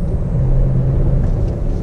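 A 2019 Chevy Camaro RS cruises along a twisty road, its engine and road noise forming a loud, steady low rumble heard close up throughout, with no talking.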